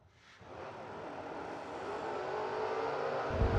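Drag racing cars, a Chevy and a Roadster, launch and accelerate hard, a broad engine roar rising steadily from quiet to loud and building toward the end, with no talk over it.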